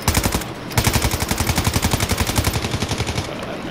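Rapid automatic gunfire from a Call of Duty: Modern Warfare II multiplayer match, a loud steady stream of closely spaced shots rattling on throughout with barely a pause.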